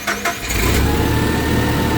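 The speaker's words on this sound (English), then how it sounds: "I'm going to start it up." Car engine cranking with a couple of quick starter whirs, then catching and settling into a loud, steady idle close by.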